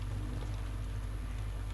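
Rain falls in the survival video game DayZ as a steady, soft hiss with a low rumble underneath, even and unbroken, with no voices.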